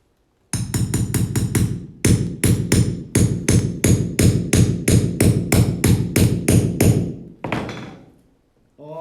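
Nails hammered during a furniture reform project, a long steady run of loud, close, evenly spaced blows, about twenty strikes with a short pause partway through, ending in a fading ring.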